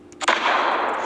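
Sniper shots from an AR Blaster augmented-reality laser game, a single sharp electronic blast that trails into a brief, noisy decay, loud and close with no voices over it.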